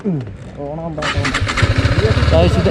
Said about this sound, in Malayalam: ഇതാണ് എൻജിൻ നോയ്സ്.